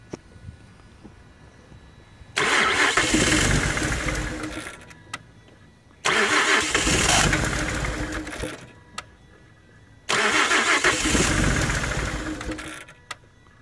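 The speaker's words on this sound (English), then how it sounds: "Notice too, when you start the car, there's some noise to it before and after." A car that starts but will not stay running fires up three times, each time running roughly for about three to four seconds before cutting out, with quiet pauses between the loud bursts.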